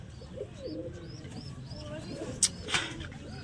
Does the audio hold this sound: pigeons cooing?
yes